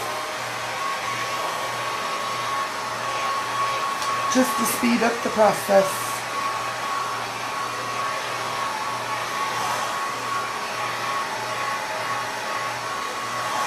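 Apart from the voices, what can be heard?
blow dryer drying an object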